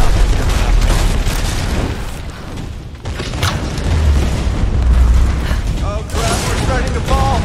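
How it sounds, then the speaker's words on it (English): Explosions in the Tomb Raider video game: loud, sustained rumbling blasts and booms with creaking, clattering debris, filling the whole stretch with dense noise and no talking. "Oh, so much exploding."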